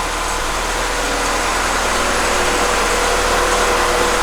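A car engine on solid motor mounts idles steadily, a close, continuous rumble with a rough low throb that holds without change throughout, no voices.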